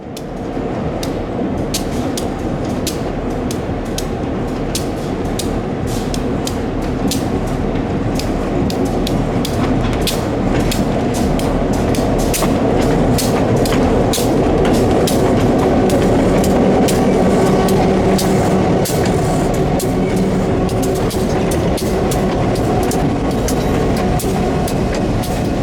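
Light locomotives trundling into a rail yard in the Allegheny mountains: a continuous heavy engine drone with steady rolling rumble and sharp wheel clicks and clanks, loud and close for the whole stretch.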